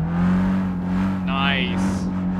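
A small Volkswagen racing in Gran Turismo 5, its engine holding a steady, close droning note while a voice talks over it.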